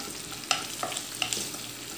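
Onion, green chilli, turmeric and chilli powder sautéing in a pan, a steady soft sizzle broken by a few sharp scrapes and knocks of stirring, close and fairly quiet.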